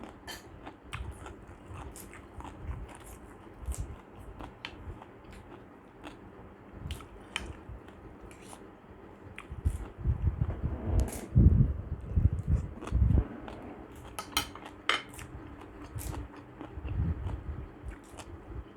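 Crunchy purple-salted fruit being bitten and chewed up close, with repeated crisp crunches and moist chewing that grow louder toward the middle, over a steady low background hum.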